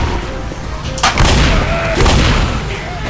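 Gunfire in a Left 4 Dead co-op match, a couple of loud booming shots about a second apart over dense game noise and music.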